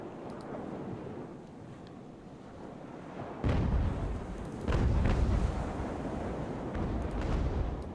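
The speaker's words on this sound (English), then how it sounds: "So every time we fire those guns, that'll happen." Sailing ship cannons fire in the naval game Ultimate Admiral: Age of Sail as deep, booming blasts, one after another, that roll out loudly and overlap into a rumbling barrage.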